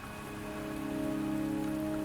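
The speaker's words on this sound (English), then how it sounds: "The rain is subsiding, and the sky will soon clear." Rain falls steadily in the video game Wuthering Waves, a close and even patter of drops on surfaces alongside faint musical tones, with no voices.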